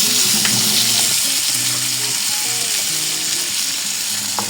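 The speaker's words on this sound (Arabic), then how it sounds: "هديله تشويحه بسيطه بس يدبل كده" Onions sizzle and fry loudly in a pan as peppers and potatoes go in for sautéing, a continuous close crackle with occasional stirring scrapes and no talking.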